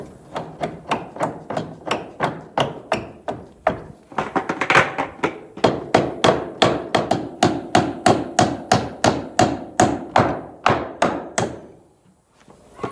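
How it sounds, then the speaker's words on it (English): Steady hammer blows drive nails into a cramped, awkward spot, about two strikes per second. The sharp knocks are close and loud, pause briefly partway through, then resume at a slightly faster pace before stopping. "it's hard to hammer in awkward little spots"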